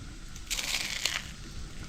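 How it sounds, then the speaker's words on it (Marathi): Crunching of crispy fried onion bhaji (kanda bhaji) at an outdoor creek-side party: a dense burst of crisp crackling about half a second long, close and clear over a low background rumble. "कुरकुरीत कांदा भजी आता बघा आवाज येत"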